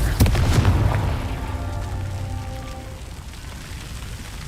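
A Confringo fire spell explodes in Hogwarts Legacy with a loud booming blast that rolls off into a crackling, rain-like debris patter fading over several seconds.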